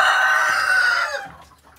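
Native chickens raise a loud, agitated squawk as their eggs are taken from them, a single close burst that fades out within about two seconds.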